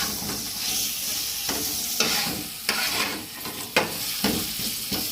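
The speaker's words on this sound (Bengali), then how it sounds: "আলুগুলো ভেজে নেবো ভালো করে" Potato pieces fry in oil in a pan, giving a loud, close sizzle broken by repeated scraping stirs and a few sharp clinks of the spatula against the metal, with no speech over it.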